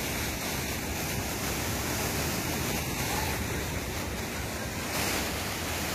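A stream zigzags through sharp turns down a stone gorge in a state park. It makes a steady, unbroken rush of water with no pauses, and no voices are heard.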